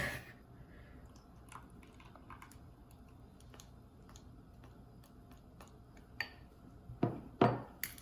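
Whisk working butter into a custard mixture in a bowl, soft irregular ticking and scraping taps, faint and close, with a few sharper clinks of metal against the bowl near the end.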